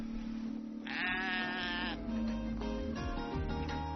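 Sheep bleat in Xinjiang, one loud, wavering call followed by several shorter bleats nearby, with a faint steady hum underneath.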